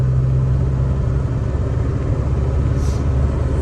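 Box truck engine pulling up a hill under acceleration, a loud, steady low rumble and hum heard close from inside the cab, with no talk over it.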